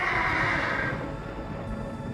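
A horse neighs loudly and close, one bright whinny that fades into softer breathy snorting and movement, with no voices.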